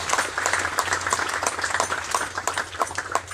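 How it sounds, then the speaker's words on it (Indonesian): Audience applause at a Baptist church gathering in West Papua, a dense, steady patter of many hands clapping with scattered cheers, fairly loud and continuous throughout, with no talking over it. "Tepuk tangan lagi."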